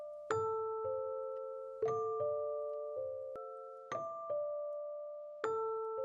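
A vintage-style bell sample, made gritty and compressed, plays a slow melody of clear metallic chimes, each strike ringing and decaying before the next, heard alone without any talking.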